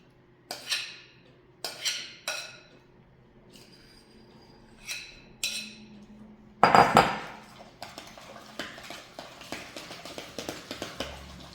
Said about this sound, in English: Really good stir.